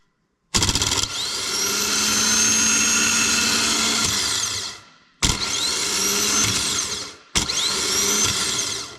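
A car starter motor from an Evo VIII rebuild, bench tested off the car by jumping its terminal with a screwdriver, whirs loudly in one long spin and then two shorter bursts, heard alone and close.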